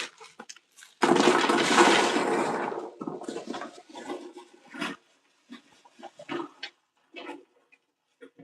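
Hands are washed under running water at a sink, with a loud gush of water lasting about two seconds, followed by scattered faint splashes and small clatters with silent gaps between them.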